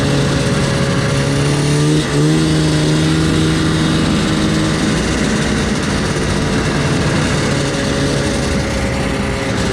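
A 1990 Yamaha Vmax 540 snowmobile engine runs steadily and loud, close by, with a brief pitch dip and rise near two seconds and a sustained droning tone throughout, no talk.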